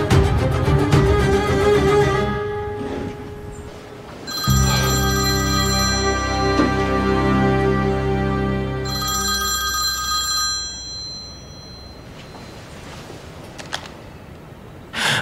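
A telephone rings in repeated electronic trills, loud and close, with pauses between rings and no talking.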